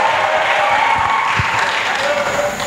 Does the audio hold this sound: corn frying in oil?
no